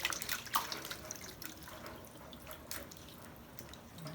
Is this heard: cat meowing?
no